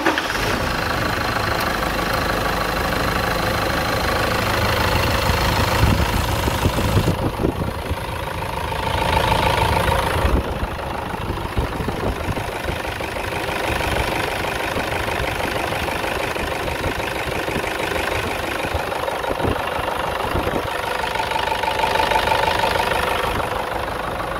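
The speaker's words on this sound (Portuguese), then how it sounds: "dá partida pra gente ouvir o motor, pra ouvir a melodia" A Toyota Hilux 2.5 engine idles close by with a steady, slightly knocking mechanical rumble, swelling briefly a few times over about twenty-four seconds.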